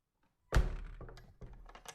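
A closet door in a horror video game shuts with a single sharp thunk after silence, followed by a few faint rattles and knocks as it settles.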